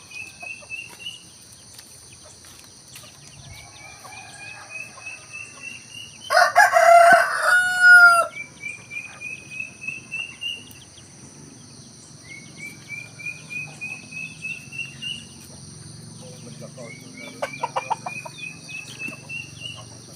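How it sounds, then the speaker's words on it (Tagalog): Chickens and a rooster in a rural yard: a loud close crow rings out near the start, other crows and clucks repeat in the distance over a steady insect buzz. "Mga manok."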